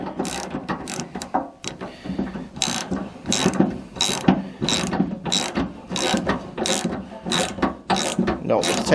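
Ratchet tightening nuts onto the tailgate handle studs of a Ford Ranger pickup, a steady series of quick metallic clicking strokes, close and clear, with little talk.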